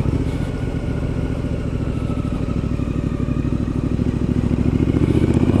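A 2019 Triumph Street Scrambler 900 motorcycle on the move gives a steady, close, loud engine drone with a rapid pulsing throb that holds constant throughout, with no talking.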